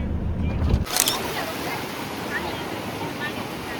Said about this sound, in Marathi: आता आम्ही बीचला आलो आहे आणि बीचचा म्हणजे व्ह्यू बघा